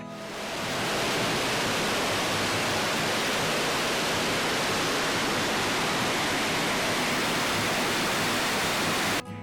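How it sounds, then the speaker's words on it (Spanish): A waterfall near Machu Picchu roars in a dense, unbroken rush of falling water, loud and close throughout, with no voices. "Y ya cuando terminamos de ver esta hermosa cascada"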